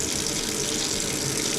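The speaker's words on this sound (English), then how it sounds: "Gonna run the hot water, been running for 5 minutes now" Hot water tap running into a bath, a steady full rushing flow of water, close and loud, unchanging throughout with no talking.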